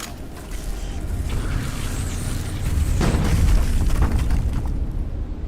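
In a frozen-wasteland survival video game set on an island in 1970s Canada, a single booming gunshot strikes an obstacle midway, standing out above a low, rumbling ambient background.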